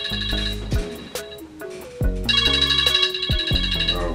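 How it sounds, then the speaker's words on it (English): A phone ringtone from an incoming call plays alone, a loud melodic electronic tune of stepped tones repeating over about four seconds. "Bro, why you calling my phone?"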